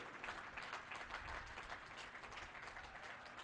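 Party workers at the Delhi BJP office inauguration applaud the Prime Minister, a dense, steady wash of many hands clapping close and loud without pause for the whole stretch.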